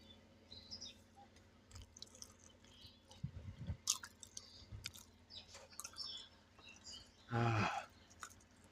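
Someone chews a mouthful of khichuri made with mustard paste, with faint close crunches and mouth noises under a quiet background. Brief bird chirps and a louder rustle come near the end.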